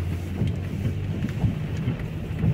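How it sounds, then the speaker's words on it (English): Heavy rain pours steadily in Lewsey Farm, Luton, a dense continuous hiss and low rumble close to the microphone, with no voices. "Look at the rain in Luton."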